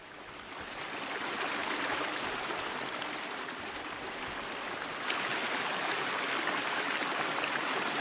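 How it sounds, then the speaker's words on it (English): Water flowing steadily through a cistern inside a monastery in a role-playing video game, a continuous broad rushing stream, even and fairly loud throughout, no voices. "And I still don't know where that water is coming from"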